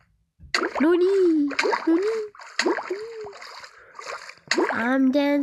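Splashing through water in the Minecraft video game: a run of watery bursts in uneven clusters, close and fairly loud, mixed with wavering vocal-like tones.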